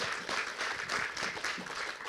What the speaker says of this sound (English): can we just have a round of applause for all of our panelists